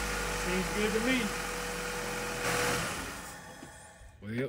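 A Honda car engine with its airbox removed idles steadily with a low, even hum close by, while someone speaks briefly over it.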